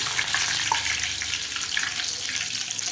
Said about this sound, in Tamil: நம்ம கருவேப்பிலை இலையும் வந்து பொரிச்சிடலாம்